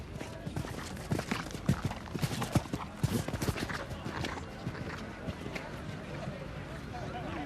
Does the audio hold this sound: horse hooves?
yes